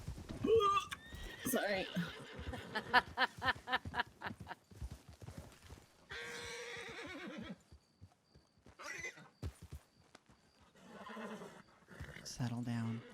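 Horses whinny loudly and hooves clip-clop in short rhythmic bursts, with people talking close by over the animals.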